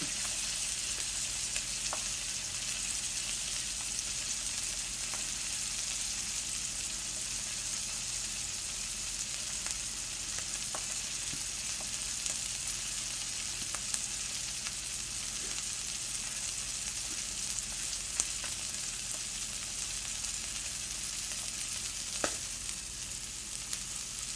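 Duck breast sizzles steadily in a frying pan, a dense, even hiss of fat crackling that runs unbroken throughout, with small pops and ticks scattered over it and no talking.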